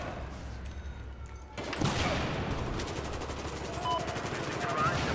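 Battlefield 4 multiplayer on PS4 brings dense gunfire and grenade blasts: after a quieter start, a loud burst hits and rapid automatic shots keep rattling in a continuous barrage.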